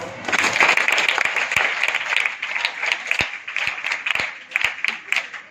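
An audience claps, a dense spread of applause that keeps going for several seconds, swelling and easing at moderate loudness.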